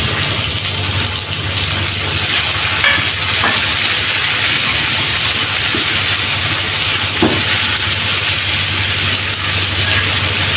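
Cubed tomatoes hit hot oil in a pan for a Bengali bata fish curry, giving a steady, loud frying sizzle throughout with a few soft stirring scrapes and no talking.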